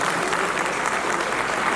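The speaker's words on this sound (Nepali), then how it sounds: "एकचोटि फेरि जोरदार ताली।" An audience at a stage event in Nepal claps loudly and continuously, a thick roar of many hands applauding throughout this short stretch.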